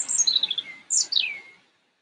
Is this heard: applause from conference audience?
no